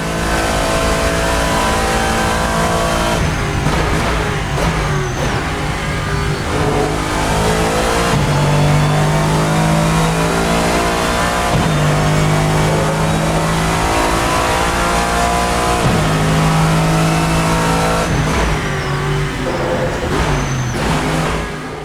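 GT3 race cars, among them a Lamborghini and a BMW, racing in the video game Assetto Corsa, with loud engines revving hard and shifting gears in repeated climbing pulls, and other cars passing close by.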